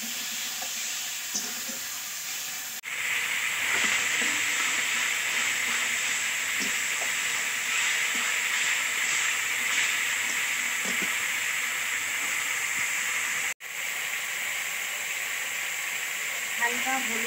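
Tomato fries in a pan with a continuous hiss and sizzle. Two sharp clicks break the sound, one near the start and one near the end.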